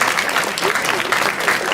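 Audience applause at a CD launch event, a steady, dense wash of many hands clapping that fills the short moment without letup.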